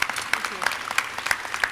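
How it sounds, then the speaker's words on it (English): Scattered clapping from an audience at a high school EKG pinning ceremony, light and uneven with a few sharper claps standing out, continuing for under two seconds beneath faint room noise. "can you give her a round of applause,"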